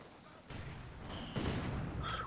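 Mortar fire rumbles in a tactical war video game, a muffled, distant-sounding low boom followed by a heavier impact crash, with faint whistling tones over the battlefield din.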